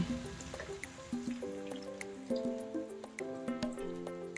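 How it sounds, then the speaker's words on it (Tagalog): Water is poured into a cooking pot holding chicken feet for humba, a soft trickling and dripping with faint tonal ringing from the pot as it fills, quiet and close. "lagyan natin siya ng tubig"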